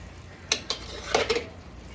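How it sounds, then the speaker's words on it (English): A spoon stirs jambalaya in a pot, giving a few sharp metallic scrapes and clinks against the pot, close and moderately loud, with no talking. "And now we stir."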